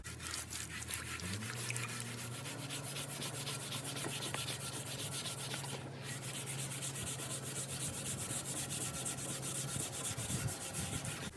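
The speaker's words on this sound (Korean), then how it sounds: "이제 철수세미로 한번 문질러 보도록 하겠습니다" Steel wool rubs hard against a rusty cast iron pot lid, a continuous, close, gritty scrubbing sound with a steady low hum underneath and no talk.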